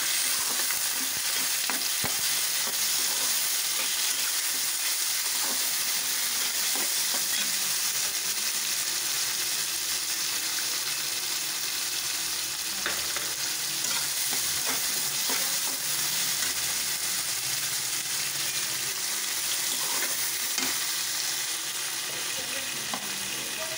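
Onion, peas and chopped tomato frying in a pan for a vegetable curry, giving a loud, constant sizzle with scraping strokes from repeated stirring all the way through. No one speaks.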